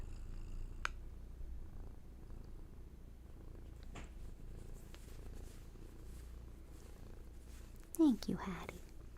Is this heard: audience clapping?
no